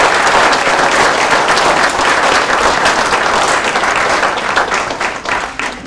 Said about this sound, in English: give a warm round of applause for our senior firefighters